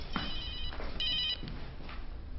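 Phone ringing with an incoming call: a steady electronic ringtone with repeating bright tones, heard clearly against a faint room background.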